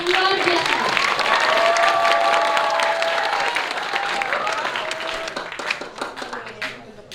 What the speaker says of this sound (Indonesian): Mari kita beri tepuk tangan yang meriah untuk penampilan Bapak Asep yang luar biasa